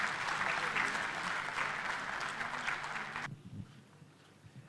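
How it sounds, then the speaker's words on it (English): An audience at a community event gives another round of applause, a fairly quiet, steady wash of many hands clapping that cuts off abruptly near the end, leaving a low background hum. "give them again another round of applause once again"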